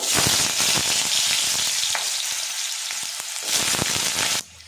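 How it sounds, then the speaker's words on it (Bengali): Cut potatoes drop into hot mustard oil and fry in a pan: a loud, continuous crackling sizzle with bursts of spitting that carries on evenly, then cuts off sharply at the end. "এর মধ্যে কেটে রাখা আলুগুলো দিয়ে দেব"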